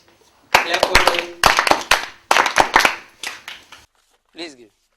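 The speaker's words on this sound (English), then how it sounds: "Clap for them." Students in a grammar class clap together in several loud, rhythmic bursts of sharp hand claps close by, and a short voice follows at the end.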